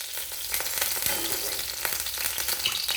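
Mustard oil sizzles in a hot kadai (wok), a close, bright frying hiss with a few crackly pops and soft scraping touches running throughout, no talking.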